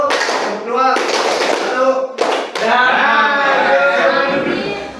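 A group claps hands during a classroom counting game, bursts of rapid patting and clapping that stop and start, mixed with voices calling out and chattering over the claps.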